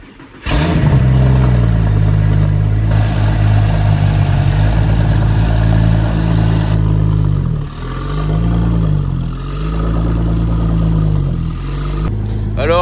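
A Porsche GT2 converted into a camper starts up and settles into a loud, close idle, then revs gently and burbles with rising and falling pitch, with a few spoken words.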